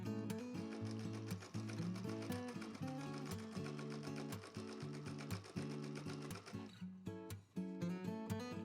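A sewing machine chain piecing flying geese quilt blocks runs in a steady, continuous mechanical whir, pausing briefly near the end before stitching on again, close and clear.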